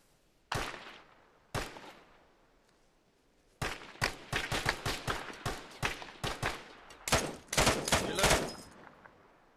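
Gunfire in the military shooter Arma Reforger, set in a Falklands War battle: two isolated sharp shots, then a dense run of rapid, loud reports that build into sustained bursts, alone without talk.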